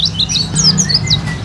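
Oriental white-eyes (pleci) chirp inside a bird-selling kiosk. Quick, high, thin tweets repeat rapidly and overlap, loud and close over a low background hum.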